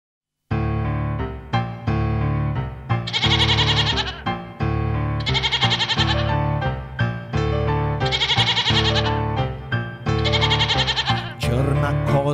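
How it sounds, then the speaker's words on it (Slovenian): Repeated goat-like bleats sound out over a loud, steady musical backing in a children's farm song, coming in regular bursts across the track. "Črna koza srborito po kmetiji skače"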